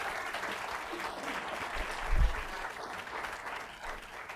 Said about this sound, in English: Another round of applause for our speakers,